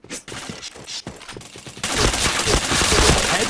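PointBlank gunfire: a few scattered sharp shots, then a dense rapid burst of automatic fire that fills the last half, loud and close.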